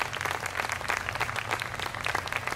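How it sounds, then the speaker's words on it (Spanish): A church congregation claps together at a worship service, a steady dense patter of many hands heard at moderate distance. "Le damos un aplauso a Jesús,"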